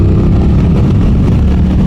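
An Aprilia RS 660 motorcycle engine is opened up from 3,000 rpm, producing a loud, close, gritty low rumble that stays fairly even over the short stretch, with no voices.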